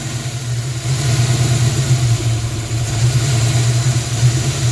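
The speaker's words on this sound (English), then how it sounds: "It is still running like garbage, but it did restart." A 1994 convertible's engine idles roughly just after restarting, a loud, steady low hum with an uneven, slightly lumpy pulse, heard close and alone.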